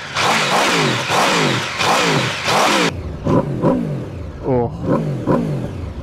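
A 2021 Aprilia RSV4 Factory sports bike engine revs hard and repeatedly in loud, rising bursts close by, then settles into quieter, choppier blips of throttle; a voice briefly exclaims at the start.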